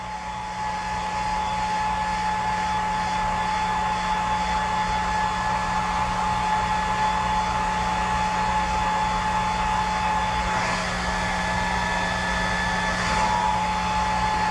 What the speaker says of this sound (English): This is a low watt hair dryer, and it's actually all you need to complete this effect